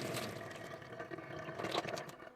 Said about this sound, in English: wait for the flow of water to subside.